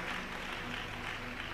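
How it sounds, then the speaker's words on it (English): A church congregation at a welcome service claps in a steady, dense patter that runs without a break under a low background hum. "It's good to clap for Jesus."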